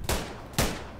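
Two sharp gunshots from the video game PUBG, each a loud broadband crack with a short decaying tail, spaced about half a second apart with no talk.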